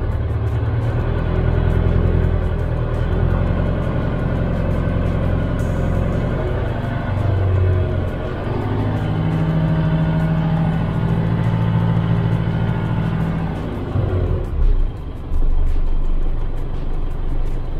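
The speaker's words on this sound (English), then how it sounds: "so I'll just push the throttle down." A stationary car's engine idles, then the throttle is pushed down and it revs with a steady mid-pitched rumble. The revs shift partway through before dropping back, with no talk over it.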